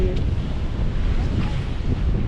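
Ocean waves surging against a rocky shore at Avoca during rock fishing, a loud, continuous wash of surf mixed with heavy wind buffeting the microphone.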